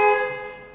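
A single short car horn honk sounds in the video game Asylum, a steady tonal blast that fades out within a second.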